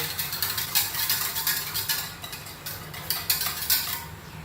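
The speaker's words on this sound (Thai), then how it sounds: "เอาเจลาตินนะคะ ที่เราเตรียมเอาไว้มาใส่ลงไปเลย ต้องพักให้ครบอย่างน้อย30นาทีนะคะ คนค่ะ ให้เข้ากันดีเลย" A spoon clinks and scrapes against a bowl or pot as gelatin is stirred into a Milo panna cotta mixture, with steady repeated metallic taps and scraping throughout, close and moderately loud.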